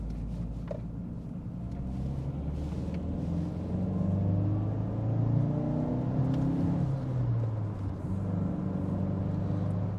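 Cabin noise inside a 2007 Opel Astra H 1.6 while driving, a steady low rumble of engine and road with a faint whirring drone that rises and falls gently. There is no talk.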